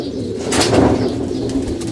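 A sick pigeon gives a short, close, low cooing call with a soft throaty murmur, a brief rustle above it, nobody speaking.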